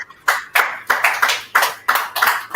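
Applause from an audience at a business summit for young CEOs, heard as a quick series of sharp, close claps in an uneven rhythm.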